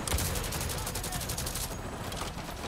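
Rapid automatic gunfire in the game Avatar: Frontiers of Pandora, a steady, evenly spaced burst of loud shots running nearly the whole time, briefly thinning before resuming.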